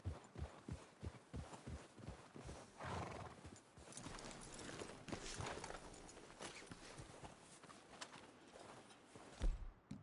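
Horse hooves in Red Dead Redemption 2 clop at a walking pace on the ground, a steady rhythm that grows muffled in the middle, with a snort or whinny near the end.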